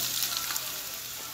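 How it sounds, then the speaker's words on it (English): Potatoes frying in oil in a cast iron camp skillet with a cold handle, giving a steady close hiss and crackle of sizzling throughout. "I've got some oil in there now. I'm going to throw on some potatoes."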